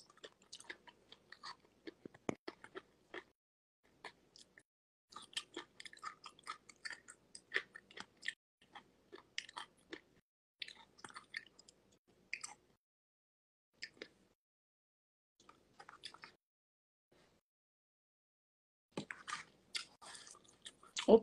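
Close, wet chewing and biting of food in irregular bursts with quiet pauses, some soft crunches and squishy smacks, fairly faint and without talk.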